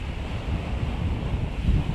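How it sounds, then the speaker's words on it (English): Steady wind rushing past a sailboat at sea, 15 knots on the beam in the Baltic, with waves washing along the hull and heavy microphone buffeting, a continuous low roar and no speech. "A nice wind. We got 15 knots of wind on the beam."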